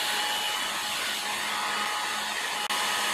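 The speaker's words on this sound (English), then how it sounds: "After a long session with the hair dryer, the grease has melted sufficiently" A hair dryer runs steadily and close at full blast, warming and melting grease on a Brooks B66 leather bicycle saddle, with a constant airy whine and one brief dropout near the end.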